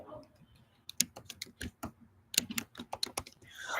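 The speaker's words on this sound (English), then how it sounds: "Let me type in stuff." Quick bursts of typing on a computer keyboard, with irregular clusters of close, crisp key clicks and short pauses between them.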